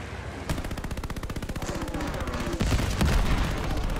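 Rapid automatic gunfire in Call of Duty Vanguard, a dense, loud, steady stream of shots that swells heavier toward the end, with no talk.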